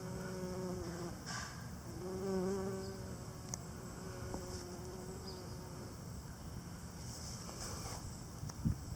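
A bumblebee buzzes faintly around St. John's wort flowers outdoors, a soft, wavering drone that rises and falls as it moves about, with low background noise.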